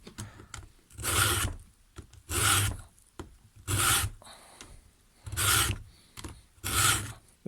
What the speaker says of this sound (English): Try and keep it in a straight line as well when you're filing.